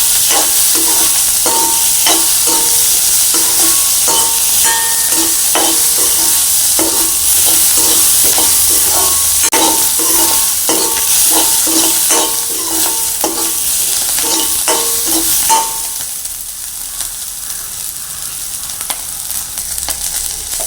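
Onions sizzle and crackle loudly in a hot pan for oats porridge, with the scrape of stirring, then the frying settles to a softer hiss toward the end.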